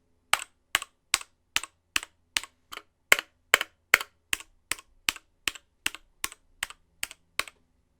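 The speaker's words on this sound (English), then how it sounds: "The typing experience is also pretty similar to the Razer Huntsman Mini" Evenly spaced, crisp clacks of individual keys pressed one at a time on a mechanical keyboard, close and clear against silence.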